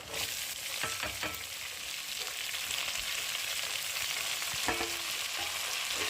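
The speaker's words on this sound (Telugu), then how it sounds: "ఇవి బాగా వేగిపోయాక పొడవుగా కట్ చేసుకున్న ఉల్లిగడ్డలు అయితే వేసుకుంటున్నానండి" Long-cut onions sizzle and fry in a pan of hot oil for dal chicken, a steady close crackle with occasional sharper pops and stirring clatter throughout, no talking.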